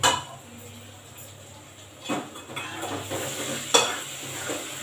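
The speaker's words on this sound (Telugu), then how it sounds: "బెండకాయలు వేయాలి కదా, అన్నీ మంచిగా కలుపుతున్నాం" A utensil stirs okra pieces and mixed vegetables in a sizzling pot for sambar, with soft scraping strokes and a couple of metallic clinks over a low, steady frying hiss.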